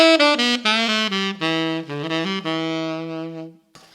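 A saxophone runs up and down the minor blues scale in E, a string of clear, close, separate notes ending on a longer held tone, then a short breath-like tail.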